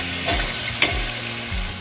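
Paneer sizzles in hot ghee and oil, a continuous frying hiss broken by two or three sharp utensil clinks, close and steady.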